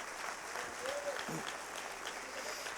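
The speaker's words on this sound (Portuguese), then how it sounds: "aplauda o nome de Jesus" A church congregation applauds during a sermon, a broad, even wash of clapping that stays fairly quiet and distant, with a brief voice sound passing through it.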